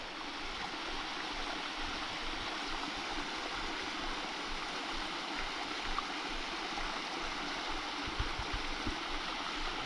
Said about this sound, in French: petit arrêt pour montrer cette jolie cascade